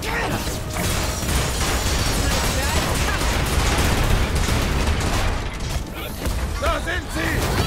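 Rapid gunfire crackles through combat in the Marvel's Avengers video game, a dense continuous barrage of shots and impacts with booming bursts, loud and sustained throughout, with a voice talking over it.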